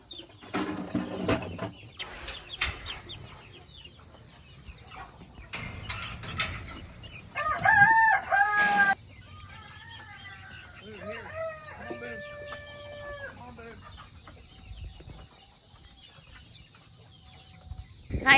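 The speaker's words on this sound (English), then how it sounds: "This right here is a Shetland hen." Farmyard chickens, including a Shetland hen, cluck intermittently at close range, with a rooster crowing loudly in the middle and a few sharp mechanical knocks around them in a quiet morning setting.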